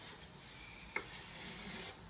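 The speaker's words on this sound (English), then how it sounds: "By the time we're done sanding it, it's going to be" Hand sanding of a wooden aircraft wing leading edge, a soft continuous rasping rub with one brief sharp tick partway through, close and quiet.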